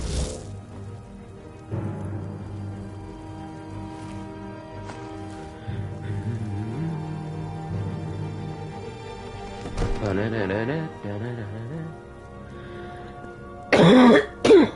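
A man coughs and clears his throat several times between stretches of game sounds, with a loud burst of noise near the end.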